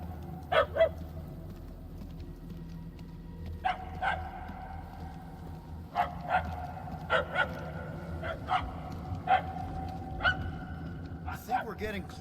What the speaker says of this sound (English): The barks are getting louder at least.